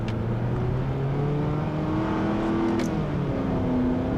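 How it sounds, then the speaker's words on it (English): Engine of a 2013 Honda Accord Coupe EX-L with a CVT revving in sport mode, a steady hum of rising and held revs from inside the cabin with a brief higher whine, continuous and moderately loud. "it's even got a sport mode here that will kind of bring the revs up"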